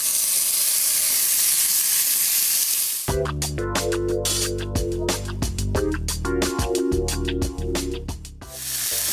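Lamb browns in small batches in a hot pot for a stew. A loud, continuous sizzle and hiss fills the first three seconds, then music takes over.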